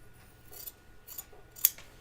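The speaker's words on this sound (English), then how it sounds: "These scissors kind of need sharpening" Dull scissors trim the seam allowance of a 1940s-style dress, giving a few quick, crisp snips spaced irregularly, close up and distinct against a quiet room.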